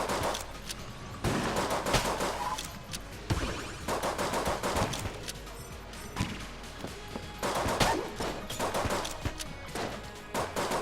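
Rapid gunfire in the Enter the Gungeon twin-stick shooter game, dense bursts of repeated shots in several loud clusters with brief pauses between them, and no talking.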